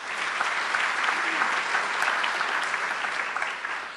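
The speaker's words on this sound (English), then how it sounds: "Let's give her a round of applause." Faculty meeting audience applauding an honoree, a loud, full, continuous clatter of many hands sustained throughout and easing slightly at the close.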